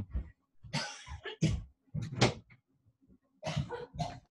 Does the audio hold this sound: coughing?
yes